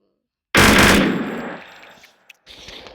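A favourite gun in a modded video game fires a loud, close burst of rapid automatic shots that decays over about a second, followed by a short click and a second, fainter burst.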